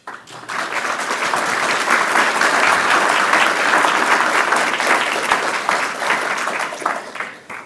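An audience at a talk on protecting democracy applauds to welcome a speaker to the podium, with full, sustained clapping that starts abruptly and fades slightly near the end.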